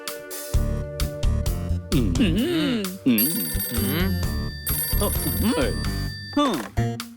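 A telephone rings in a kids' cartoon, with repeated bright electronic ring bursts mixed with cartoon music and character voices talking over it.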